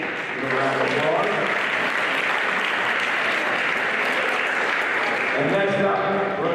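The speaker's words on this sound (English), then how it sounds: "Give a round of applause" Applause for sportsmanship award winners at a high school volleyball championship ceremony, a broad continuous wash of clapping from the crowd under an announcer's voice, holding steady at moderate loudness.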